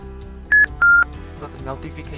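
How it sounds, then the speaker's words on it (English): An AKTA START chromatography system gives its notification sound: two short, clear electronic beeps, the second slightly longer, standing out over a quiet lab background. "so the notification sound will come out again"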